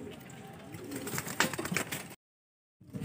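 Racing pigeons coo close by amid some fluttering and shuffling at a derby, then the sound cuts to brief silence before resuming faintly.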